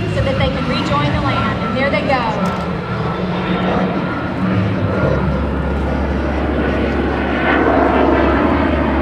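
An MS760 jet passes during an airshow team's display, a loud sustained engine roar that swells and holds steadily, with an announcer talking over it.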